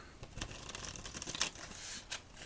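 Playing cards riffle and shuffle in quick papery bursts, crisp crinkling snaps close by but quiet, with no talking.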